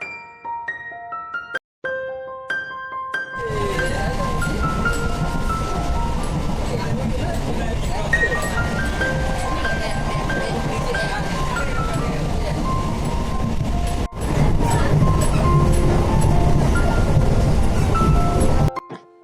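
Inside a moving passenger train, a steady loud rumble and rattle of the carriage fills the space, with a brief louder surge midway; voices can be heard talking over the running noise.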